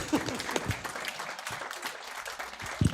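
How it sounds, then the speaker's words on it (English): A small audience at a candidate forum claps in a moderate, uneven round of applause, with a few louder nearby claps and some faint voices mixed in. "Everyone give a round of applause"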